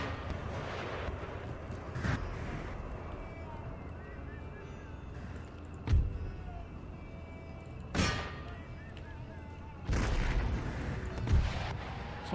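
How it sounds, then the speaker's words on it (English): Musket volleys from infantry firing by rank in the Empire Total War video game. Distinct sharp cracks sound every couple of seconds over a steady battlefield rumble, and some are followed by longer bursts. "The fire by rank of my men is just too powerful."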